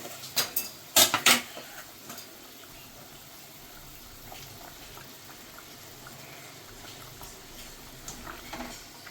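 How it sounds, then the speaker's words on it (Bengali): Fish pieces dropped into a pot of boiling radish and potato curry, giving a few sharp splashes and clatters near the start, then a steady low bubbling simmer. "এবার আমি এটাতে দিয়ে দেবো মাছ।"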